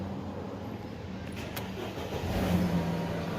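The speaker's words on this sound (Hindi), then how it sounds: "ये गाड़ी स्टार्ट हो गई।" Car engine starting during an air-conditioning repair, a low engine rumble that builds after a brief crank and settles into an idle, faint and heard alone.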